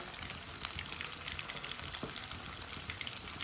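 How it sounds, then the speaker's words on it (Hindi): A single piece of fish fries in oil with masala on a stove at medium heat, giving a dense, steady sizzle with crackling pops, close and continuous throughout. "इसे 3-4 मिनट के लिए अच्छी तरह पकने देते हैं।"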